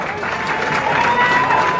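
A large audience at the Miss Universe 2017 preliminary competition, held at Planet Hollywood Resort Casino, applauds and cheers for the staff: a loud, dense, sustained roar of clapping with faint tonal music underneath.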